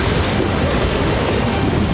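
A swollen Pinder river in flood roars loudly and steadily as a taxi crosses its fast current, a dense continuous wash of rushing water with no voices.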